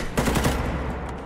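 Gun turret firing in Fallout 4, a rapid loud burst of automatic shots lasting about a second, close and dense with no talking.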